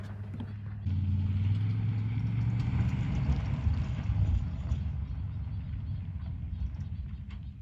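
Vehicles race up a hill in eastern British Columbia, with a low, steady engine roar that starts suddenly and holds for several seconds at a moderate distance, with no talk.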